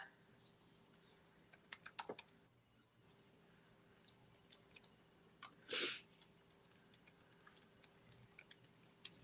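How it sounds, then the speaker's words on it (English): Keyboard typing with a steady run of quick, light key clicks during a live bingo stream, sitting close and fairly quiet against a faint background hum, with a short pause and one louder burst partway through. "I'm typing."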